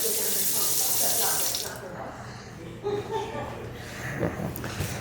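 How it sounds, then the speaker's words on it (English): A kitchen sink faucet with strong water pressure runs in a steady loud hiss, then shuts off, leaving quieter room sounds and a few light clatters; a voice speaks briefly. "Kitchen sink. See how well it works? Yeah. Water pressure is really good."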